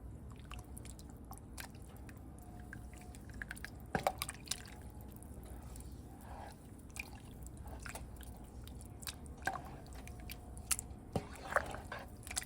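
A big pot of soup coming up to a boil under its lid: faint, scattered drips and soft bubbling pops over a low steady hum, quiet throughout.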